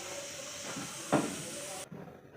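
A pressure cooker steaming kharvas lets out a steady, loud hiss with a sharp burst of venting midway, then cuts off abruptly near the end.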